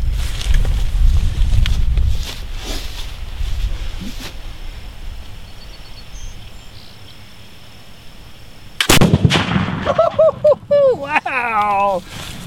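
A black powder gunshot fired at a target outdoors: after a stretch of low rumble and wind, one sudden, loud blast rings out, followed by an excited voice.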